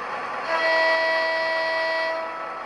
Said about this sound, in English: There's a long horn